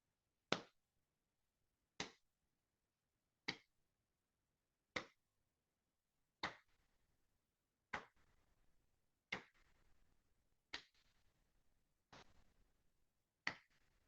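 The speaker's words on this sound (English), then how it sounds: "I do a little soft clap for 10 times." Soft hand clapping during a guided yoga nidra meditation: ten gentle, evenly spaced claps about every one and a half seconds, close and quiet, alone in a silent room with a faint hiss between them.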